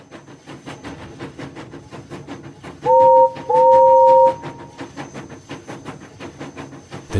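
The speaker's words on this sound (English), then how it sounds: "The train ride to Ponyville took forever." A train ride effect plays under storytelling: rhythmic wheel clacks on rails repeat steadily throughout, with two long whistle blasts midway.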